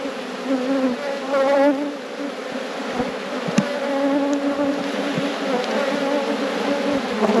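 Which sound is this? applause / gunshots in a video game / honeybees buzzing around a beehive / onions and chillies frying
honeybees buzzing around a beehive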